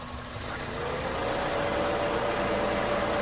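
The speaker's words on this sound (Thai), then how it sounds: "ฟังเสียงเครื่องยนต์เลยครับ" A 2004 Honda Jazz 1.5 E automatic with a 1,500 cc i-DSI engine idles with the bonnet open, giving a steady, even hum with a faint tonal whine that swells slightly and holds without any talk.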